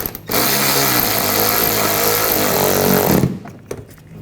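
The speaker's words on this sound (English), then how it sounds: "Now put this screw in. Tighten that down." A power drill whines steadily for about three seconds while tightening a screw on the front bumper cover of a 2014–2020 Nissan Rogue, loud and close, then stops abruptly, followed by a few light handling clicks.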